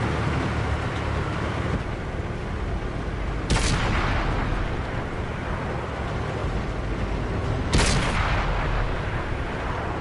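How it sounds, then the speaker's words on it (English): Tank cannon fire in World of Tanks, two heavy booming shots several seconds apart over a constant engine rumble, loud and close. "The KV Fortress over there is bouncing all my shots."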